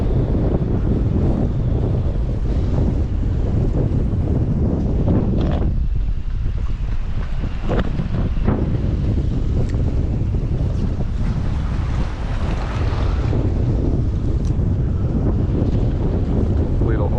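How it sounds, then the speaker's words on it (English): Strong gusty wind roaring over open water during a fishing outing on a boat, a loud continuous rumble of wind buffeting the microphone with waves washing underneath. "you'll see and hear how crazy the wind was this day"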